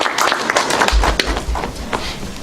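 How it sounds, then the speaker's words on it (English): Audience at a 1 Million Cups startup pitch event in Madison claps for the next speaker, a short, loose burst of hand claps fading out over a couple of seconds. "Round of applause for Jen."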